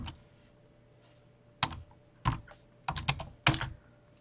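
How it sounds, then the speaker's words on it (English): A password is typed on a computer keyboard for router configuration: sparse, close key clicks in small clusters over a quiet background, with no talking. "Okay, so here we enter the password."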